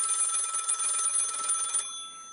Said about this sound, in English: Jewel is in her garage working on her car when the phone rings.